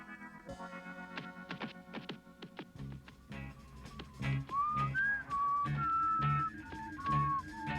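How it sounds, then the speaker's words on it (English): A melodic whistle plays a sequence of sustained, sliding notes over a low rhythmic musical backdrop, clear and fairly loud in the second half. "I've heard that whistle before."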